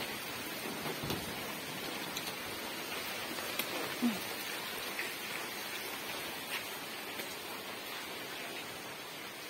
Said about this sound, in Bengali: বৃষ্টি আজকে সারাদিনে মনে থামবে না